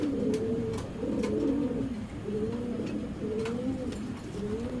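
Giribaz pigeons at a pigeon farm give close, repeated soft cooing calls in a steady rolling rhythm, one coo after another, with no talking over them.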